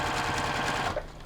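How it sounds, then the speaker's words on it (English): Domestic sewing machine back stitching through fabric for a quilted fat-quarter book cover, a close, steady whirring motor hum running continuously with no talk, easing slightly near the end. "and then I'm going to back stitch."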